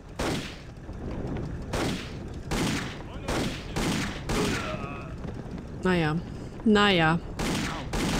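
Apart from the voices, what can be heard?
gunfire in the video game Indiana Jones and the Infernal Machine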